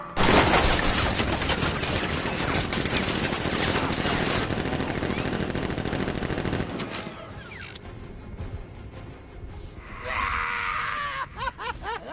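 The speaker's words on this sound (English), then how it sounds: "Activate sentry guns on my mark." Sentry gun turrets in Batman: Arkham Knight fire a loud, sustained burst of rapid automatic gunfire for about seven seconds, then fall away into scattered clatter and a brief high electronic tone, with a voice briefly audible.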